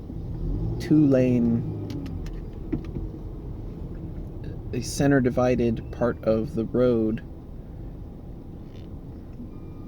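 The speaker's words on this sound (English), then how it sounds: "There's a garbage truck going down a" A garbage truck moves slowly along a two-lane divided road, its low engine rumble steady in the background beneath someone talking close by.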